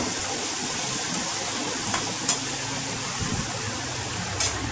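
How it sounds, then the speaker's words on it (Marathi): Water pours into a pan of eggplant and potato curry with a steady, soft rushing spray and a few faint clinks over a few seconds. "मग त्यात टाकू आपण पाणी"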